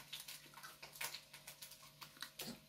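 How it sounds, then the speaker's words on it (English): A lemon is rinsed under running tap water, giving faint, close splashes and uneven patters as the fruit is turned in the stream. "Rinse lemon."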